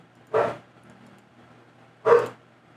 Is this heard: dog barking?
yes